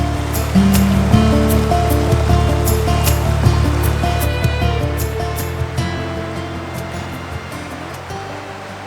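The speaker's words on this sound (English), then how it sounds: "The white noise of a nearby creek is nice in theory, but maybe not so much in practice." A nearby creek flows steadily outdoors on a backpacking trip in a canyon, with a constant rushing, broadband water noise that stays loud and close throughout and slowly eases by the end, with no talking.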